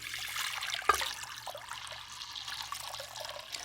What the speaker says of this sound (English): We'll add our water.